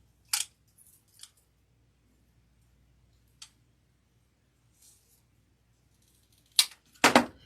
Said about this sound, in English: I think I'm going to cut this one a little shorter.